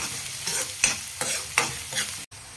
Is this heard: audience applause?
no